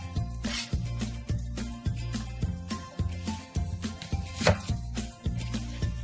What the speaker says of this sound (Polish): Wtedy pokroimy pieczarki.